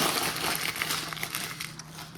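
Continuous crinkling and tearing of plastic packaging as a Wagyu top sirloin filet is ripped open, loud and close, with dense crackly rustles throughout and no talk.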